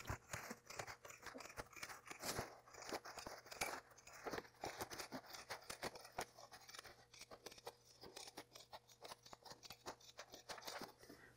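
Pinking shears cut fabric along a placement line for an in-the-hoop embroidered towel topper: a quiet, continuous run of crisp, crunchy snips in quick rhythm, close by, with no talking.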